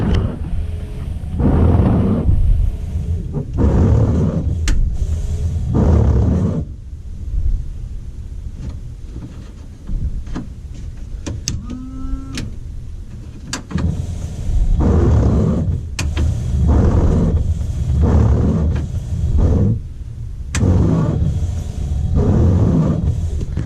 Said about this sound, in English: high and low speed wipers work